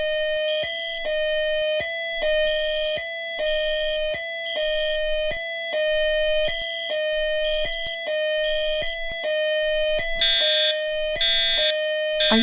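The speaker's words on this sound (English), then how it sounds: "Brenda, the fire alarm is going off." A house fire alarm going off at 3 in the morning, a loud, close, piercing electronic tone pulsing in a steady on-off rhythm throughout, with harsher noisy bursts near the end.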